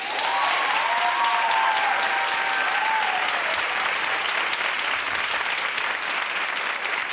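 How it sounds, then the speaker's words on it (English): Steady, dense clapping from a television talk show studio audience, loud and sustained for several seconds with a faint voice briefly audible at the start. "Okay, clap if that's the way you want it."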